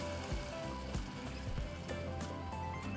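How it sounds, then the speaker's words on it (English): Salsa frying in hot olive oil in a pot, a constant crackling sizzle with scattered small pops, fairly faint and close, with no talk. "once the oil is hot, we're going to throw in our salsa"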